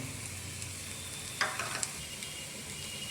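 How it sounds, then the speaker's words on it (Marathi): Misal masala spices sautéing in hot oil in a pan for Kolhapuri misal, a steady close crackling sizzle with a brief louder burst of stirring scrapes midway. "मसाले छान परतून घ्यायचे आहेत."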